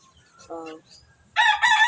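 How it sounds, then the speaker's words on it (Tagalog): A chicken crows twice, first a short, lower call and then a louder, longer one, close by in a quiet setting. "Manok"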